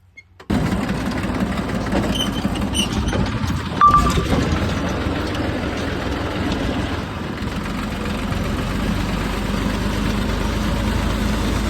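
Engine cranks and catches, then settles into a steady, rumbling idle close by, with a brief rise in revs early on.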